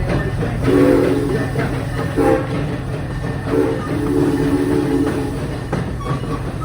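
The Serengeti Express ride train at Busch Gardens Tampa Bay rumbles along with steady rolling clatter and a low engine drone, with faint voices in the background.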